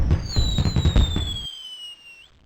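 Cartoon fireworks popping and bursting in the Living Books PC game The New Kid on the Block (1993): a quick cluster of crackling bangs under a descending whistle tone, which fades to a thin sustained whistle once the pops stop.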